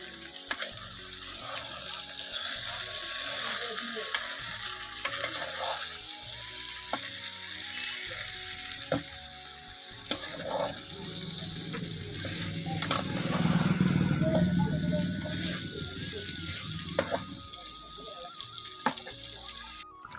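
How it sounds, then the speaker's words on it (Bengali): Tomato with ginger-cumin paste fries in a pan with a steady sizzle that swells louder in the middle, mixed with watery clatter and occasional utensil knocks nearby. "এখানে টমেটোটা কেটে রেখেছি এর মধ্যে রয়েছে আদা জিরে বাটা এটাই রান্না হবে আজকে"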